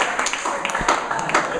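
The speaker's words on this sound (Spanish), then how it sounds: "damos un aplauso." Church audience at a sermon clapping briefly, a short burst of scattered applause with a few louder individual claps, close and fairly loud, mixed with faint voices.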